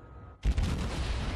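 Heavy cruiser Atago's naval guns fire a single volley in World of Warships, a sudden loud, deep broadband blast that starts abruptly and rolls into a sustained rumbling roar.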